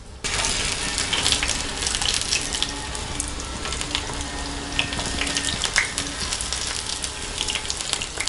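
Eggplant slices frying in a little oil in a pan make a close, continuous sizzle with dense crackling and scattered sharper pops throughout, with no one talking.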